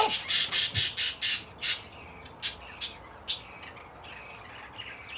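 Loud, near bird squawks in a rapid burst of about eight harsh calls, then a few spaced cries tapering off, with no talking.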